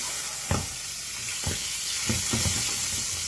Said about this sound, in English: I'm going to hit it with a tablespoon or two of butter, and then I put it on either side of the pan